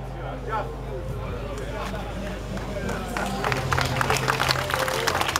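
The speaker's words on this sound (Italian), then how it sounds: "Un lungo applauso allora per il Dark Diamond" Audience in the Scania atelier applauding the unveiling of the limited-edition Scania 620 Dark Diamond truck amid smoke and lights, clapping building from scattered to a fuller, louder round over a low steady hum, with crowd murmur underneath.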